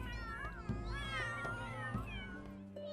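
A cat meows repeatedly in The Sims 3, with several distinct rising and falling calls over a steady low background hum, fairly close and clear.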